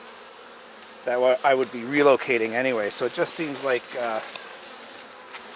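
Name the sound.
honeybees buzzing at a robbed hive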